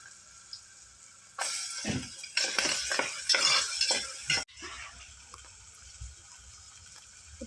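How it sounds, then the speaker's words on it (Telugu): Peas, potatoes, carrots and onion pieces fry in oil with ginger-garlic paste for vegetable biryani, a loud sizzle with repeated scraping stirs of a metal spoon for a few seconds, then quieter frying continues. "ఇప్పుడు ఈ విధంగా అన్నీ ఫ్రై అవుతున్నాయండి"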